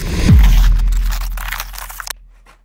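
A large cardboard package box shipped from America is pulled open with loud crunching, scraping and tearing of cardboard close up, ending in a few sharp crackles before quiet.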